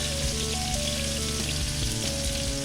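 Onions and vegetables fry in a pan with a steady, dense sizzle, close and even throughout and heard alone.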